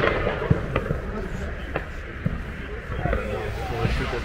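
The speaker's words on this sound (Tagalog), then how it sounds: "The fireworks are like click, click, click, click, click, click." New Year's Eve fireworks pop and crackle in Lucerne, Switzerland, as scattered distant bangs under a crowd's murmur and nearby talking.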